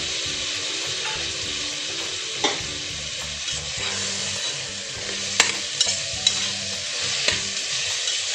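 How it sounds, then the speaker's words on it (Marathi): Finely chopped tomatoes sauté in hot oil with roasted garlic, giving a steady sizzle broken by several sharp spatula taps and scrapes on the pan, close up with no speech. "चांगले परतून घेऊया।"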